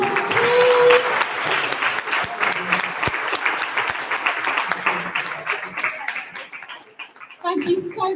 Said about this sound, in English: Can we give them a massive round of applause, please?